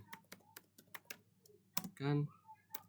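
Keystrokes on a computer keyboard, ending in a single Enter key press, sharp and close, mixed in among scattered voice sounds.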